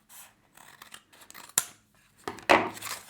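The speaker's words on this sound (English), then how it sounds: "I'll cut the big section off" Scissors snip through food packaging in several short cutting strokes with brief pauses between them, loud and close, with a rustling rasp of material as the blades close.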